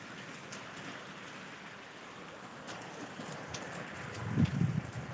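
Steady rain patters down in a continuous broadband hiss, with a brief low thump or rustle near the end.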